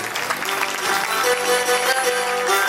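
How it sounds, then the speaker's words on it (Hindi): An audience claps together to send off Abhishek bhai at a camp gathering. The applause is dense and steady, filling the room from start to finish. "एक बार अभिषेक भाई के लिए ताली बजा करके रवाना करें"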